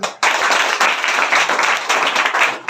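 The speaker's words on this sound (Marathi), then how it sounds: "प्रवीण साठी जोरदार टाळी" A burst of loud, dense clapping from a group of schoolchildren in a rural classroom, cheering a pupil named Praveen, close and sustained for a few seconds with slight dips in intensity.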